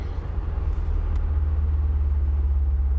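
Deep, steady engine rumble from a 2016 Mercedes-Benz SL63 while driving, a continuous low drone with road noise and no breaks.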